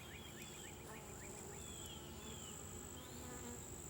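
Honeybees drone in a dense, steady buzz during a beehive inspection, a continuous hum with occasional nearer passes of individual bees.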